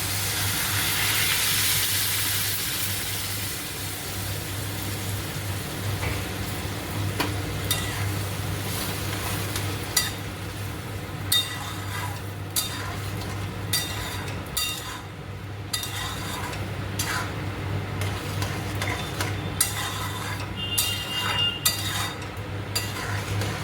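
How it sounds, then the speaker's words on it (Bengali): Chana dal poured into a pan of fried spices for a vegetarian chana dal dish, giving a steady soft sizzle with a low hum beneath and scattered clinks and stirring taps over about twenty seconds, no talking. "এবার আমি ডালটা ঢেলে দিচ্ছি।"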